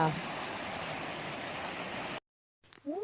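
Waterfall on a mountain forest trail gives a steady, close rushing roar for about two seconds, then cuts out abruptly; after a short gap, faint movement and a brief voice follow.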